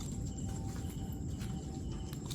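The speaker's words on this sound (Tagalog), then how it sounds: "Mga kuliglig din tawag niya yan. Marinig nyo lang ingay." Crickets chirp at night in a cemetery, a steady high trilling that fills the air continuously with no talk over it.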